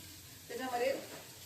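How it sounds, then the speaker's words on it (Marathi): Coconut, garlic, ginger and coriander paste dropped into hot oil for a Maharashtrian mutton curry, giving a sudden burst of sizzling that swells and then fades back to a low hiss. "खोबरं, लसूण, अद्रक आणि कोथिंबीरचं वाटण टाकत आहे"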